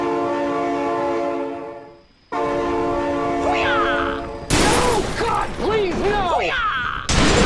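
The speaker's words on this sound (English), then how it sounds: "Oh my god, train!" A loud, sustained train horn blares in a BeamNG.drive-style driving game, with steady harmonic blasts cut off briefly before resuming, while an excited voice shouts and a crash-like burst of noise follows.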